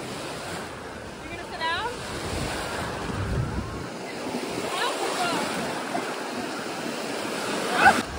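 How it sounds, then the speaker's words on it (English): Waves start up in a wave pool at Aquatica water park. A soft, steady wash of water mixes with wind buffeting the microphone, and faint voices and a brief squeal can be heard in the background. "The waves are just now starting."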